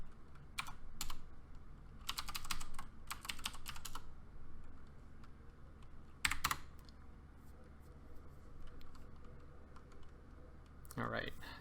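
Typing a Linux install command on a computer keyboard, faint clusters of quick key clicks in short bursts with pauses, over a low background hum.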